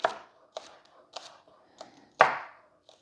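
A knife chops green onions on a cutting board, giving six crisp separate chops at an uneven pace, close and clear against silence, with the last chop the loudest.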